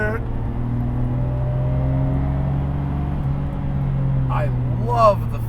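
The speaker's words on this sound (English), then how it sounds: "I love the feel of the engine. It hums at this beautiful frequency." A Nissan R33 GTR's engine gives a steady, low droning hum from inside the moving car, with a voice talking over it and a brief rise near the end.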